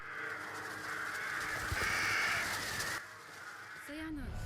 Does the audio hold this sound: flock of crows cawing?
yes